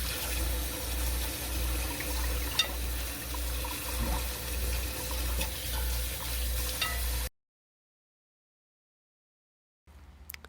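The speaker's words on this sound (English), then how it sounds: "we're going to soak our basil and parsley in a vinegar water, and then I'm just going to rinse it off again" Basil and parsley are rinsed under a running kitchen tap, a steady low rush of flowing water with small splashes and clinks, fairly quiet, ending abruptly in silence before a faint resumption.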